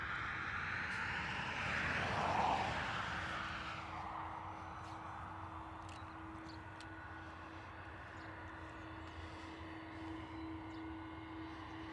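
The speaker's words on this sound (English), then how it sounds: "So we have an A330 on taxi for Orlando." An Airbus A330 airliner taxis at Dublin Airport bound for Orlando, its engines a broad steady rumble with a low sustained whine, swelling briefly early on and then holding an even drone at moderate distance.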